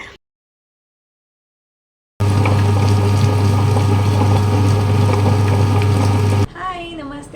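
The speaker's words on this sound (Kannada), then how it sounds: "ಗ್ರೈಂಡರ್ಗೆ ಹಾಕೋಣ ಅಂತ ಹೇಳಿ ಗ್ರೈಂಡರ್ಗೆ ಹಾಕ್ಕೊಳ್ತಾ ಇದ್ದೀನಿ." Kitchen grinder running at home: after a stretch of silence, a loud, steady motor whir with a strong low hum and grinding rattle starts abruptly and holds for several seconds, then cuts off into quieter noise.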